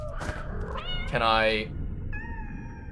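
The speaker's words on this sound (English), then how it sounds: "Because they keep meowing, and I don't want to leave them behind." Kittens meow in the video game Nine Sols: several clear, high, drawn-out meows, with one loud and long in the middle, while a person talks briefly over them.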